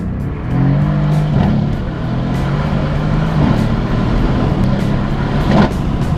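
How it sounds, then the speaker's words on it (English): A Mercedes C63 AMG engine pulls hard under acceleration, a loud steady low drone heard from inside the car, holding throughout with a slight surge near the end. "Accelerating."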